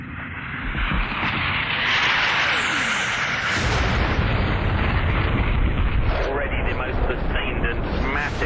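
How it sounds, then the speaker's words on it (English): Explosions during a sustained, massive attack on central Baghdad, heard as loud, continuous rumbling blasts and booms that fill the whole stretch, with a voice speaking over them. "The intensity of the explosions has been absolutely huge."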